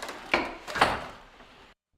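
A single door swings open with two quick wooden knocks and a short creaking rush that fades out, close and fairly loud with no talk.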